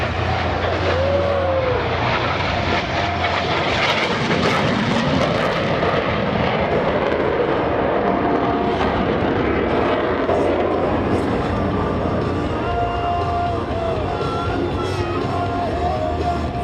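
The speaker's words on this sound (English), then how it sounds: "push forward on the stick as they perform the opposing knife edge pass" US Navy Blue Angels jets roar through an opposing knife-edge pass at an airshow, a loud continuous broadband jet rumble that swells and sweeps past without a break, with no talking over it.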